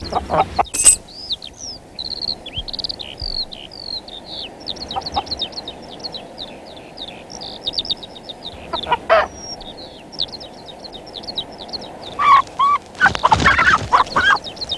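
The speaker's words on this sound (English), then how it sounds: "a cheeky hen stealing his keys." A hen clucks and chirps in repeated short calls over a steady low background hum, ending in a louder burst of squawking, in a 1981 Postman Pat children's TV episode.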